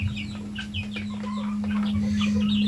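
Native chickens cluck in a confined pen, with scattered short calls from several birds over a steady low hum throughout.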